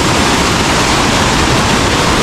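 The Honolulu waterfall at Tingo Maria pours in a dense, loud, unbroken roar of rushing water, heard up close with no other sounds.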